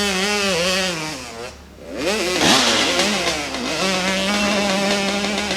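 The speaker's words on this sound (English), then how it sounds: "Chloe Peterson sporting her pink helmet, riding a Kawasaki." A Kawasaki dirt bike at a motorcycle club hillclimb revs hard up a dirt slope, the engine note climbing and falling through repeated throttle bursts with a brief dip before roaring back, loud and close.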